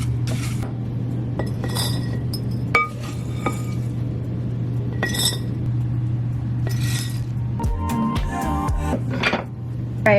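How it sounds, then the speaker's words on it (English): Glass mason jars clink and knock as granola is stored in them. Sharp, bright taps come in scattered bursts, with a cluster of quick rattling clinks near the end over a low steady hum. "I like to just store my granola in a mason jar with a tight lid."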